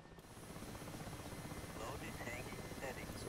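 An Mi-8 helicopter in the DCS flight game descends toward a helipad, its rotor and turbine noise a steady, dense whine and whir that holds evenly throughout at moderate level.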